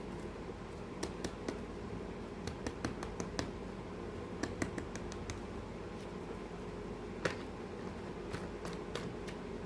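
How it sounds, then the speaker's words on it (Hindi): Tarot cards are shuffled by hand in a quiet room, producing faint, irregular bursts of crisp clicking and riffling snaps spread over several seconds. "चलो shuffle shuffle shuffle shuffle shuffle."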